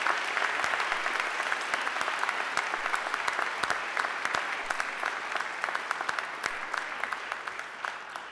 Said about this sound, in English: And I now invite you to give them a mighty round of applause.